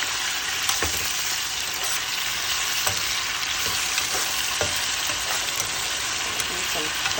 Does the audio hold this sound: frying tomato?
yes